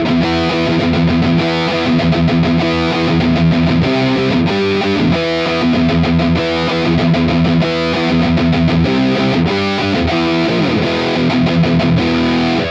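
Heavily distorted electric guitar through an Uberschall amp head model in Tonocracy neural amp software plays loud, tight chugging metal riffs with rhythmic palm-muted stops, continuous and alone.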